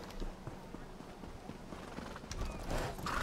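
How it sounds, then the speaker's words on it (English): Hooves clip-clop in a steady, even rhythm as a horse trots along in Elder Scrolls Online, with a brief neigh rising near the end over soft in-game ambience. "That is a jumping horse."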